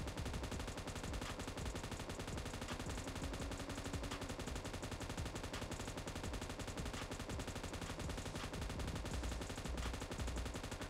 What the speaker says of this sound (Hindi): यहाँ पे भाई मैंने लिटरली अभी 150 गोलियाँ फायर करी है रेड डॉट लगा के